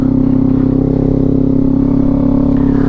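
Kawasaki Z400 motorcycle fitted with a Leo Vince exhaust, its engine running loud and close with a steady, throbbing idle pulse and no talk.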